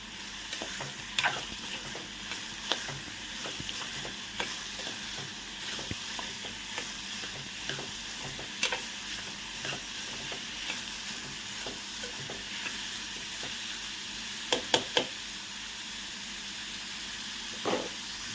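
Papaya pieces fry in oil with browned cumin seeds while being stirred slowly, a continuous close sizzle dotted with regular clicks and scrapes of a utensil on the pan.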